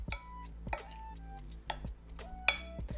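Crispy rice being mixed with mayonnaise, a spoon scraping and knocking around the bowl in a few distinct, quiet strokes with soft pauses between them and no talking.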